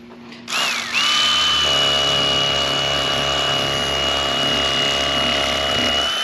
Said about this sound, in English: I'm using the stiff blade on the Bubba Blade electric fillet knife with the stiff blade on it